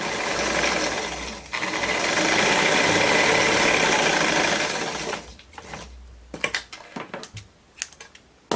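Sewing machine stitching ribbon trim onto a blouse, a loud rapid mechanical chatter in two bursts over about five seconds, then stopping and giving way to scattered clicks and handling taps.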